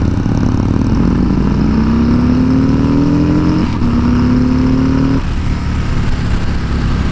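A 2018 Harley-Davidson Street Bob's Milwaukee-Eight engine drones loudly and steadily while riding, rising in pitch through the gears with a couple of brief shifts, under constant wind noise.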